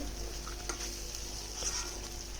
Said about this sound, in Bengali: এদিকে আমি ভাজিগুলোকে ভেজে দিচ্ছি